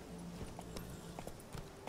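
Horse hooves clip-clopping in The Witcher 3 video game, a steady run of moderately loud, evenly spaced hoofbeats over a continuous low background hum.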